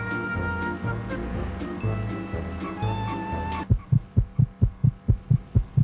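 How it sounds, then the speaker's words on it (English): Heartbeat sound effect in the True Crime: Streets of LA video game: after a humming engine drone cuts off, a loud, steady thumping pulse of about eight beats plays alone, close and evenly paced. "Why is my heart beating so fast"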